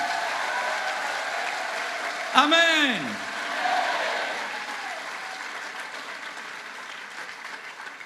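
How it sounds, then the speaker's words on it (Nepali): An audience claps at a Christian camp meeting, a broad, sustained wash of applause with a raised voice calling out briefly over it before the clapping gradually fades. "One more clap."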